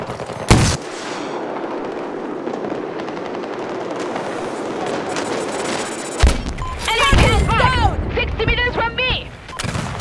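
Gunfire in Battlefield 2042 as a MAV is shot: an opening loud blast, then sustained rumbling battle noise, a second sharp crack near six seconds, and a burst of voices and whistling chirps near the end.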